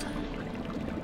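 Aguamenti water spell in the LEGO Harry Potter video game, a steady rushing pour of water jetting from a wand, continuous and fairly loud throughout with no talk.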